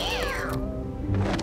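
Cartoon cats meow at a giant cat tower, a clear drawn-out meow followed by a shorter second mew, close and loud with no talking.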